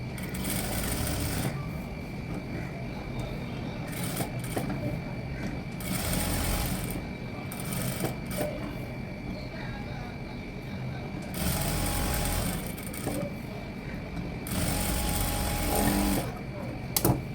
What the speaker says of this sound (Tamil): இந்த எட்ஜஸில் வச்சு ஒரு ஸ்டிச்சஸ் போட்டுறேன்